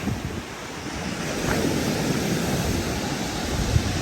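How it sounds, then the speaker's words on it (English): Sea waves washing onto a pebbly beach near Folkestone, a steady broad rush of surf with wind buffeting the microphone, no talk. "It's a pebbly beach."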